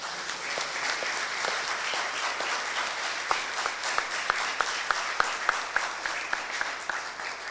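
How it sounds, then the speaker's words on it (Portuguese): A church congregation applauding during a Wednesday worship service, steady dense clapping throughout with a few sharper, louder claps standing out near the end. "Pode aplaudir o Senhor."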